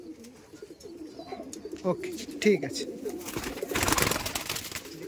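Red Madrasi pigeons coo in a loft, a steady low murmur of several birds close by, with someone speaking briefly over them and rustling and shuffling noise swelling toward the end.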